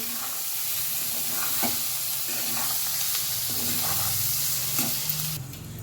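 A steady frying sizzle as chillies roast in a hot pan, with occasional scrapes and stirring clicks as they are moved around, close up and continuous.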